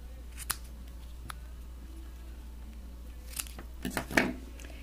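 Scissors trimming a bow on a paper 3D ornament, giving a few crisp, close snips, one early, one alone mid-way, then a quick cluster near the end in a quiet room.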